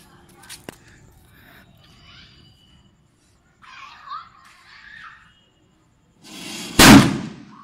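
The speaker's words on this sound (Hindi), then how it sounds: "बुलेट बम देख रहे हो पूरा धजिया उड़ चुका है पूरी मिट्टी ऊपर आ चुकी है" A Diwali bullet bomb firecracker set off inside a hole in the ground bursts with one loud, close blast after quiet stretches of background chatter and laughter.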